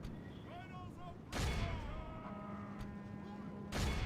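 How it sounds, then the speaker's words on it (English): Ballistas loosing bolts at great beasts (mumakil) in a Third Age Rohan strategy game battle, heard as two heavy booming impacts over a constant rumbling battle din with faint whistling tones. "Come on, ballistas, hit them."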